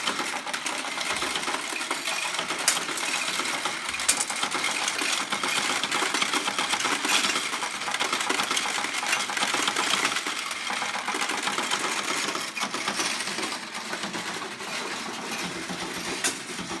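An S&T OEM coin module counts dropping coins, making a dense, loud, continuous mechanical rattle and clatter that runs steadily for over fifteen seconds with no talk over it.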